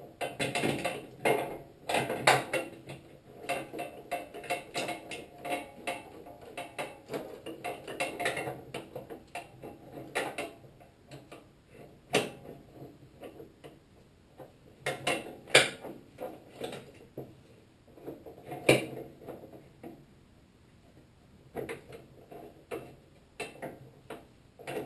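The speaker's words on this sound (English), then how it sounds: "And then we get the puller in here." Metal puller being fitted and worked onto a Bolens 1026 snow thrower during engine removal, producing bursts of ticking, ratcheting and clinking metal clicks in irregular clusters, close up, with no talking.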